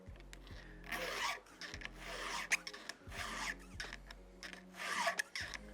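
A square file rasps across the teeth of a chainsaw chain on a Stihl MS 461, in repeated even strokes about once a second, each a close, gritty scrape with short pauses between.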